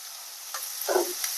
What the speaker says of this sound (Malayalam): അതിനകത്തേക്ക് നമ്മള് ഉള്ളി മുറിച്ച് വെച്ചത് ആഡ് ചെയ്യാണ്.